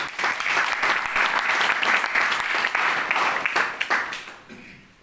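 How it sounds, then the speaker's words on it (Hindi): An audience bursts into steady, dense applause at an RCM meeting after a mention of the company's founder. The clapping stays loud and continuous, then tapers off in the final second. "जोड़ा ताली"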